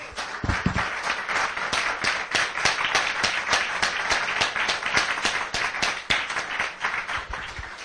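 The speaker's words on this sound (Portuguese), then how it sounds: "Bem bonitas palmas para o Senhor." Congregation in a church service clapping steadily throughout, a dense, sustained round of applause with a few sharper individual claps standing out, moderately loud and without speech.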